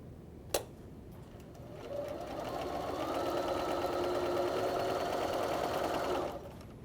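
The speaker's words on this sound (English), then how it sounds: "I actually line up the edge of my presser foot on the outside of that blue line" A sewing machine runs steadily for several seconds, stitching a half square triangle quilt seam, starting after a brief click and stopping abruptly near the end; close and fairly loud, no talking.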